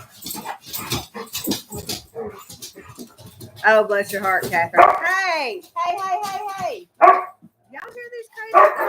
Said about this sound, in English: Y'all hear these crazy dogs?